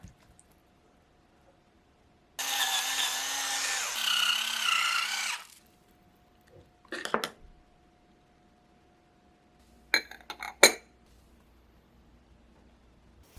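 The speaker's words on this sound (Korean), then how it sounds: "소금과 후추 약간씩 넣어 잘 섞어주세요" Perilla oil dressing with salt and pepper being stirred in a mixing bowl, a steady scraping whisk for about three seconds followed by a few short clinks and taps, close and fairly quiet.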